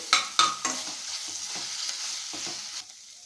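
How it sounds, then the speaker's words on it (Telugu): Ginger garlic paste fries in hot oil, with a few sharp stirring scrapes at the start over a soft, steady sizzle that fades away at the end. "అల్లం వెల్లిగడ్డ పేస్ట్ అయితే పచ్చివాసన పోయే వరకు నూనెలో వేయించుకోవాలండి"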